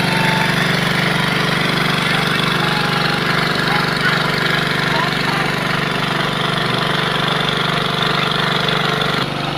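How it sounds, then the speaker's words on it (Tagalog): Engine-driven irrigation water pump at a riverside in Negros Occidental, a loud, steady mechanical drone with an even rattling chug that runs continuously throughout. "Ayan ang pumping, ito yung makina para umakyat yung tubig doon sa taas"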